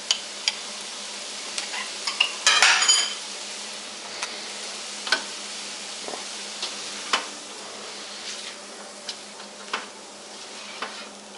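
A spoon stirs and scrapes through a dry spice mix with paprika for meat pies, producing faint, scattered clicks and taps over a steady low hum, with a brief rattling burst early on.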